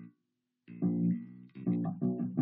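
An electric bass plays a short walk-up figure, a brief note, a pause, then a held note followed by several clipped, detached notes rising in a bumpy rhythm, close and solo with no voices.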